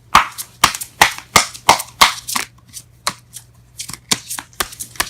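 Tarot cards are shuffled by hand in a quick series of crisp riffling bursts, about a dozen sharp flutters close to the listener with short gaps between them.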